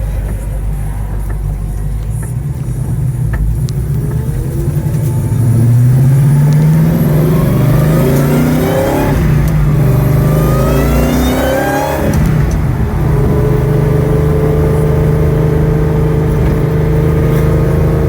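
1970 Dodge Charger RT fitted with a Hellcat engine accelerating hard from inside the car, a deep, loud engine roar climbing through repeated rev sweeps and gear changes, then settling into a sustained drone.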